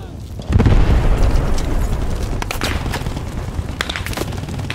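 An MG42 machine gun firing in the WW2 shooter Post Scriptum: a loud, sustained ripping burst with dense rapid reports over a booming battlefield, with a voice talking under the gunfire.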